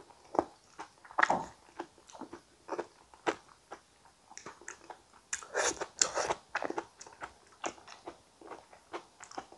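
Close, wet chewing and crunching of a vegan potato and tomato gratin with soft, very ripe tomatoes, in irregular bursts of bites and mastication with no talking.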